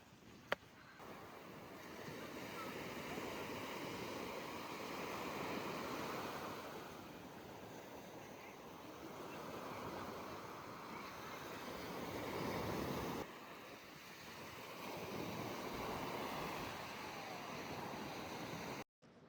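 Ocean waves wash steadily onto a beach in Udupi, a continuous broad roar of surf that swells and eases in long surges, mixed with some wind noise, heard from a moderate distance with no speech.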